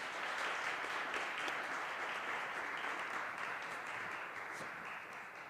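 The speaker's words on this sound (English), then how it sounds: "And we can give the ambassador and the panel a hand of applause." An audience at a panel discussion on BRICS applauds the ambassador and panel, a sustained even wash of clapping that tapers slightly toward the end.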